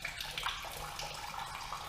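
Water trickles and splashes steadily out of the drained end of a swamped Polaris Prowler's breathing tube. It is a faint, continuous, close flow with no talk over it.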